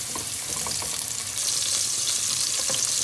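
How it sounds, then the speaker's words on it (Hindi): Ginger garlic paste sizzles in hot oil with golden fried onions for a spicy dum chicken biryani, a steady close crackle with a few sharper pops and no voices. "अब इसके अंदर हम अदरक लहसुन का पेस्ट डालेंगे और इसे 1-2 मिनट के लिए भून लेंगे"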